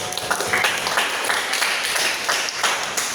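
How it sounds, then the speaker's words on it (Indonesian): A classroom of students claps together at the end of a lesson, a brisk, scattered burst of hand claps running steadily for a few seconds with no talk over it. "tepuk tangan kita semua"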